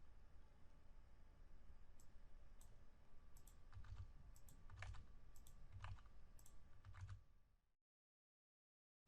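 Quiet computer keyboard typing while writing code, irregular clusters of soft key clicks over a faint hum, ending abruptly in silence.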